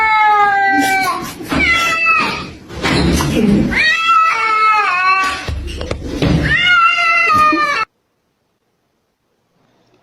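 A cat meows repeatedly in long, drawn-out, wailing calls, close and loud, with short gaps between calls over several seconds before falling silent.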